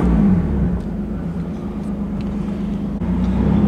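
A boosted Nissan 370Z Nismo drives by with a steady engine drone and exhaust rumble, close and fairly loud, with a slight rise in pitch near the end.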